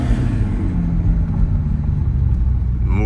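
Toyota GR Supra 2.0 four-cylinder fitted with an aFe Takeda intake, a steady low engine rumble running close and loud throughout, with a slight rise in revs near the end.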